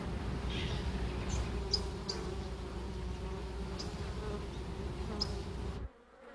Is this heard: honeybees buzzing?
yes